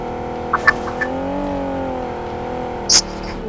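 A car driven in the mobile battle royale game BGMI, a steady engine drone with a rising and falling pitch, plus a few brief clicks and one short sharp burst near the end.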